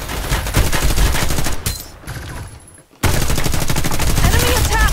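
Rapid automatic gunfire in the video game Farlight 84: loud, close, steady bursts that break off briefly midway, then resume just as intensely, with voices calling out under the shooting.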